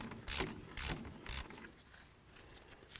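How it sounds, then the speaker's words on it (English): Ratchet works a brake caliper slider bolt loose on a 1999-2007 Ford Super Duty F-250, three quick close raspy clicking strokes in the first second and a half, then quiet. "We're going to remove this caliper slider bolt here,"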